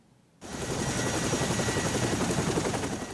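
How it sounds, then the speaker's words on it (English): A Chinook helicopter's heavy rotor thump and engine roar starts abruptly and holds steady and loud, close by, with a rapid beating pulse throughout. "This is a Chinook helicopter, a workhorse for coalition forces in Afghanistan."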